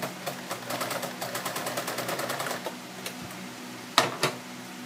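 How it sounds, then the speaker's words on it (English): A domestic sewing machine stitching denim from old jeans, with uneven thread tension, running in a fast steady needle rhythm for a few seconds then slowing and stopping, followed by two sharp clunks, close and clear. "I'm going to sew that part again."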